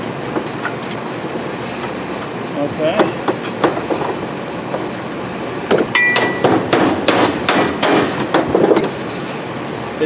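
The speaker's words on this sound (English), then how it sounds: "Don't fit, get a bigger hammer." Hammer strikes on a metal part of a Harbor Freight pickup crane, a few scattered knocks early on, then a quicker burst of sharp metallic blows with ringing, nearby in a workshop.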